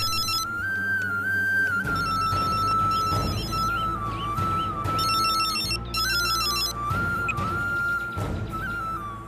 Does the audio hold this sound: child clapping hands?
no